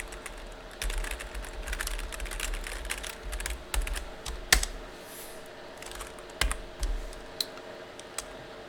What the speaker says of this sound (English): I simply have to type in my password.